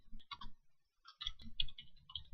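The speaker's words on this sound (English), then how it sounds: "I could click on email, and I could start typing in my email." Typing an email on a computer keyboard: a few faint, quick clusters of key clicks with short pauses between bursts, alone and close.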